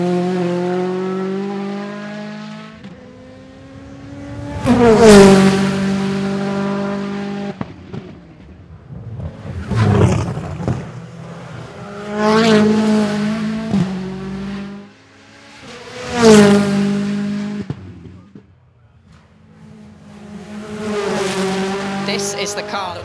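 An Alpine race car on a Festival of Speed qualifying run, its engine revving hard through several rising and falling gear pulls with brief lifts between, while a commentator talks over it.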